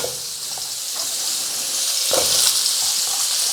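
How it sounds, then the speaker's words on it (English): Onions dropped into hot oil in a baking tray give a steady, close hiss and sizzle, swelling slightly partway through, with no talking. "now I'm going to add my onions"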